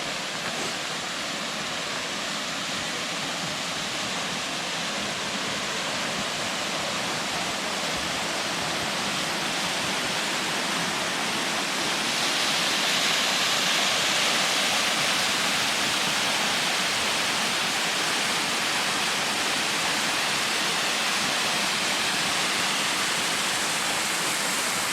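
Waterfall along the Deep Creek trail in the Great Smoky Mountains in January, a loud, steady rushing roar of falling water that fills the whole span without pause, close by and alone.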